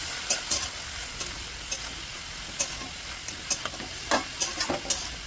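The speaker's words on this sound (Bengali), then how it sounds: "সমস্ত উপকরণ একসঙ্গে সুন্দর করে নাড়িয়ে চাড়িয়ে মিলিয়ে নেব" Cabbage and potato with salt and turmeric are stirred in a hot pan, giving a constant sizzle with repeated sharp scraping and clacking spatula strokes at an uneven rhythm, close and fairly loud.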